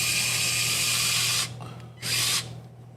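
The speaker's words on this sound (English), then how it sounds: "let's get some of these screws in here" A power drill whirs loudly for about a second and a half while driving a screw, stops, then gives a second shorter burst, close up and with no talk.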